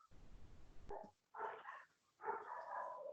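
Several pet dogs barking indoors at home in sharp, loud bursts separated by short pauses, with a low rumble of background noise before the first bark.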